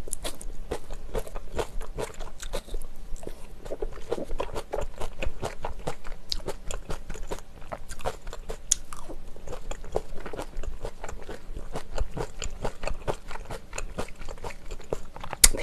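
Continuous close crunchy chewing and biting while eating spicy mala xiang guo, Chinese glass noodles with sesame paste sauce, minced garlic and sesame seeds, a steady rapid rhythm of wet crunches with no talking.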